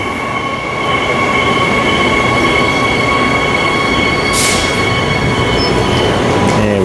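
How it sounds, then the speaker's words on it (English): A train pulls out of Airport Central station with a loud, steady rumble of wheels on rails, a brief high squeal midway and faint whining tones above, close by and with no talking. "So Airport Central, we've made it, and we'll watch this train go"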